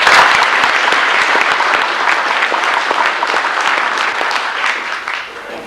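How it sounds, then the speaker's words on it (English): A credit union's 50th anniversary audience claps for its credit committee members: dense, loud applause that begins at full strength and gradually thins and fades over about six seconds. "So I'd like to give them a hand of applause."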